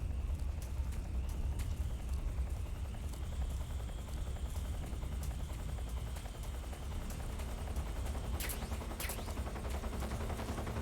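Scattered gunshots crack at a distance in Metal Gear Solid 3: Snake Eater, sounding as quiet sharp pops over a steady low helicopter drone.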